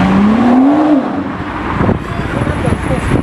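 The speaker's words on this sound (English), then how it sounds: "First car I see, boom, 992 GT3." A Porsche 992 GT3 sports car on a city street, its engine note rising briefly at close range before settling into steady road and traffic noise, with people talking over it.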